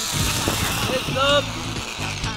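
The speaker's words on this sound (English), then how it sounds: "Landing. Hear that? Good landing." Small aircraft touching down on a jungle flight: steady, loud cabin and engine roar throughout, with a brief rising tonal whine near the middle as the wheels meet the ground.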